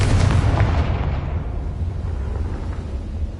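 A Confringo fire spell blast in Hogwarts Legacy, a loud, close explosive burst with a heavy low rumble that slowly fades over a few seconds.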